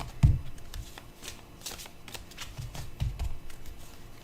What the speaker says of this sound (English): Here, one more shuffle.